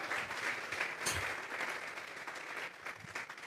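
A church congregation claps together as an offering of praise to God, a steady wash of applause filling the room throughout with a few sharper individual claps standing out.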